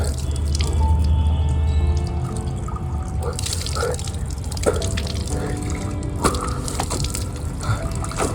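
A water tap runs and drips into a sink, a steady wash of flowing water with scattered drip sounds and a voice occasionally speaking over it.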